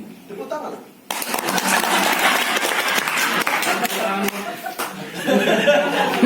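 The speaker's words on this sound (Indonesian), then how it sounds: "Tepuk tangan." Audience applause during a performing arts training session, a sudden burst of broad clapping that holds steady for about five seconds, with scattered laughter and voices mixed in.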